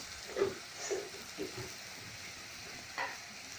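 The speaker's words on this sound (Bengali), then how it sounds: "মশলায় তেল না ওঠা পর্যন্ত মশলাটা আমি নাড়তে থাকবো।" Spice paste being stirred as it fries in oil in a home kitchen pan, giving a soft, steady sizzle with a few scraping strokes of the spoon, fairly quiet and close, with no talking.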